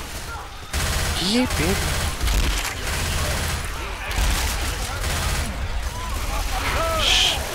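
Sustained gunfire in a Left 4 Dead 2 Resident Evil mod, dense continuous volleys of shots filling the scene while players shout over it.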